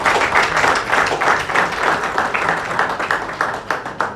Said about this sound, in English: Please give her a resounding round of applause.